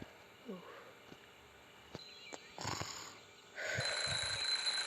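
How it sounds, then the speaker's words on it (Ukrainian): An alarm clock in the game Hello Neighbor starts ringing partway through, a continuous high electronic ring that carries to the end, after some quiet shuffling and breathing. "будильник"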